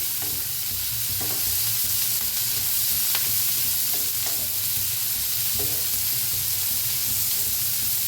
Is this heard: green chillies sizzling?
yes